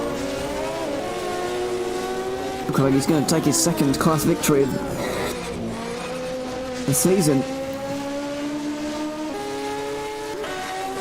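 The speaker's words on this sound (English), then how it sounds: "In this Group H special car." A Group H special race car climbs a European hill climb course at Rampa da Falperra, its engine droning steadily with sharper revving bursts, under continuous commentary.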